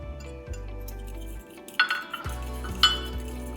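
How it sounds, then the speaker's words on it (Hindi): Metal utensil clinks and scrapes against a bowl as chicken marinade with dry spices and lemon juice is stirred, a few sharp chinks standing out over a low steady hum, no voices. "इसको अच्छे से मिक्स करेंगे।"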